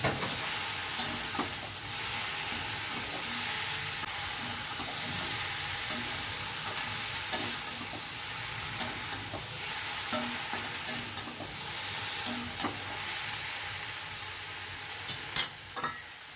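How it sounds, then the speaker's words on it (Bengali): Eggplant mixture frying in a pan, with a steady sizzle and repeated scraping taps of a spatula stirring it at close range over about sixteen seconds, no talking. "5 মিনিট পরে আবারও সব কিছু ভালো করে মিশিয়ে নিচ্ছি।"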